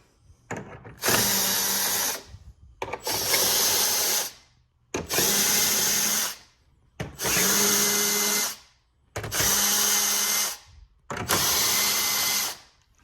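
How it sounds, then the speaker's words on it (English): A power drill fitted with a 10mm socket runs in six separate bursts of about a second and a half each, spinning out the front bumper bolts on a 2017-2021 Chrysler Pacifica. It whines loud and close, with short pauses between bursts. "I like to use my drill with the 10mm socket just because it goes a lot quicker"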